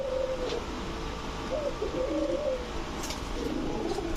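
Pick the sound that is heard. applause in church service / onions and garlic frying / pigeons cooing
pigeons cooing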